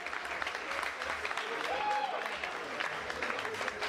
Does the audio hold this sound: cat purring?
no